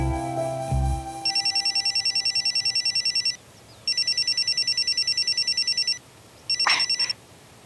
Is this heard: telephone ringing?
yes